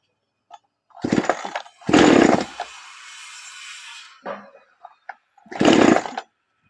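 A chainsaw undergoing repair, with the oil seal changed, fires up in three loud revving bursts, the middle one settling into a steady idle for about two seconds before cutting out, with brief mechanical clatter between.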